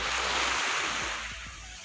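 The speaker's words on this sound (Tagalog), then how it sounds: "para ipakita sa inyo ang maalong dagat" Choppy sea waves wash onto a black-sand beach at Lemery, Batangas, a steady near roar of surf with wind buffeting the microphone and no voices.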